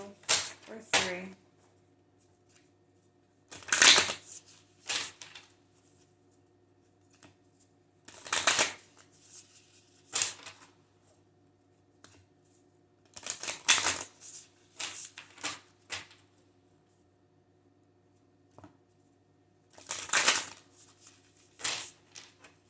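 Oracle cards being shuffled by hand in repeated short riffling bursts, about six crisp flurries spaced a few seconds apart with quiet gaps between, close and clear.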